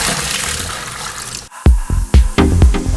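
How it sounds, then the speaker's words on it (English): Rinse water is dumped out of the cleaning container of a LeveLuk SD-501 water ionizer after a steady pour, with several short splashing gushes and sloshes close by. "and dump out that water"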